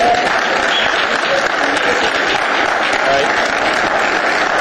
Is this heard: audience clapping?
yes